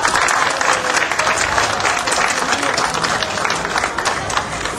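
A school audience gives loud, sustained applause for an eco patrol team of secondary students, dense clapping with crowd noise holding steady throughout.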